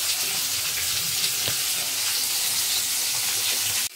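Two pieces of fish frying in a pan for a light Bengali fish curry, giving a steady, crackling sizzle of hot oil that holds even throughout before cutting off abruptly at the end.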